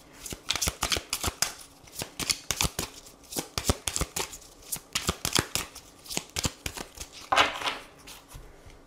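Tarot cards being shuffled in a steady run of crisp riffling flutters and soft slaps, close and fairly loud, with no voices over them.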